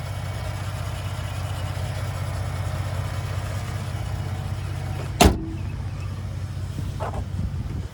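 Lincoln Navigator 3.5-liter twin-turbo V6 idling steadily with a low hum, interrupted by a sharp loud thump near the middle, like a hood or latch, then the idle continuing.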